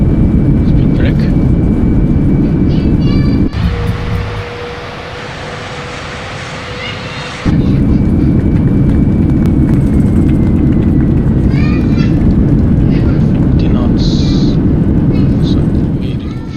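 Airbus A320neo rolling out after landing at Kabul with speed brake deployed, a loud steady roar of engines and rushing air inside the cockpit, dipping briefly before surging again, with a high tone running through it.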